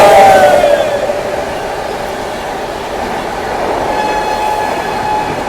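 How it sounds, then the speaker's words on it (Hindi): Ajmer-Sealdah Superfast Express, train 12988, passing on the main line, a steady loud rumble of rolling wagons with squealing metallic tones early on, sustained throughout without talk. "आ रही है 12988 अजमेर सियालदा सुपरफास्ट एक्सप्रेस"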